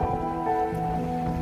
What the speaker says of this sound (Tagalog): Grabe ang lakas ng hangin pagkatapos umuulan pa.